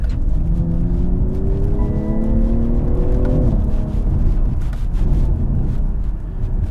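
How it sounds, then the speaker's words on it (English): A BMW M340i in Sport Plus mode revs with a deep, bassy engine and exhaust growl, loud and steady. Rising and falling pitch sweeps through the rev range, close up and with no talk. "the exhaust sounds absolutely great"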